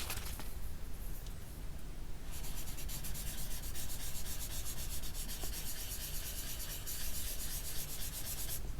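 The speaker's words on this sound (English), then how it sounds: "I am going to use the smudge stick" A smudge stick rubs over a pencil drawing of a cat on paper, producing soft, continuous close-up scraping strokes that repeat in a steady rhythm.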